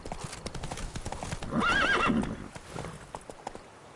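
A horse in The Witcher 3 video game clip-clops along and lets out a loud, clear neigh midway, with hoofbeats continuing throughout.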